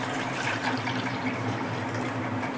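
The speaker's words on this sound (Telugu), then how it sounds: "1/2 లీటర్ వాటర్ వేస్తుంది." Half a litre of water poured into a small bowl on a stove, a continuous close splashing and gushing stream that keeps going without a break.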